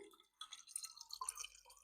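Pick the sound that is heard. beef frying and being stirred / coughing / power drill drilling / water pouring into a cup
water pouring into a cup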